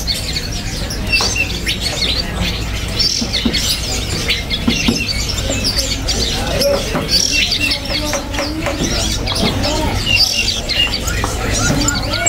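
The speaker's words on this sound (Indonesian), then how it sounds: "Nah, ini ada yang namanya burung perit Jepang ya." Society finches, burung perit Jepang, at a bird market chirping in a busy overlapping chorus of short tweets and calls, with other caged birds and a murmur of background voices mixed in.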